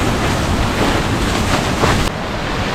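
Overflow water from a brook running at high volume gives a loud, steady, broadband rushing roar close to the microphone that cuts off abruptly near the end, with no speech.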